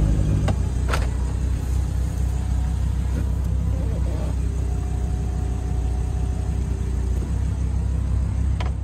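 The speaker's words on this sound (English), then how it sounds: "I've never seen a convertible top operate so quickly" A 2011 Audi R8 V10 Spyder idles with a steady low engine rumble while its convertible top and windows run through a quick electric whirring cycle, with faint mechanical clicks and servo tones near the middle.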